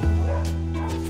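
A dog at a rehoming centre gives a close, loud, drawn-out bark-like yowl with a strong harmonic tone, lasting about a second with no pause.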